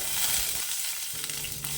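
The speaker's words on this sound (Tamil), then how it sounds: "கருவேப்பிலை பொரியட்டுங்க" Steady, loud sizzling and crackling of curry leaves frying in hot oil, continuous and close, with no voices.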